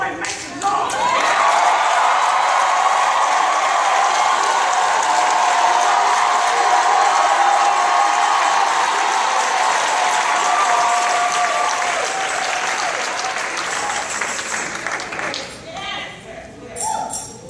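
A large crowd at a religious gathering breaks into loud, sustained applause and cheering that fills the room and then slowly tapers off.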